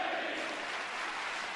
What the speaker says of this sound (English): Thank yous from the crowd, all the crowd, even those who were chanting for Shinsuke Nakamura